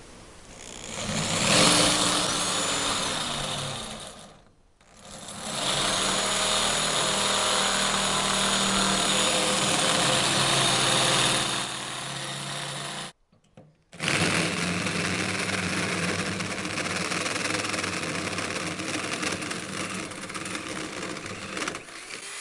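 A power tool cuts a 1 1/4 inch hole through the metal of a BBQ smoker for a grommet, a loud steady whine running for long stretches with two brief pauses.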